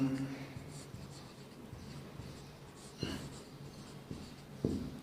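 A pen writes out a math solution for a class 10 lesson, a soft, steady scratching close by that runs throughout with a few sharper taps, faint under background noise.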